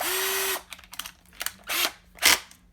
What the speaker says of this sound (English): gotta love the power tools